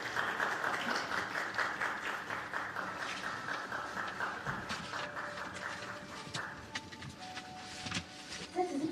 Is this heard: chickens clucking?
no